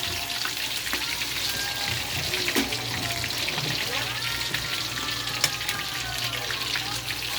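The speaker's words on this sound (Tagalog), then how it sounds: "Piprituhin lang yan. Easy lang ang prito." Steady sizzling of chicken frying in hot oil, a continuous crackle with scattered small pops throughout.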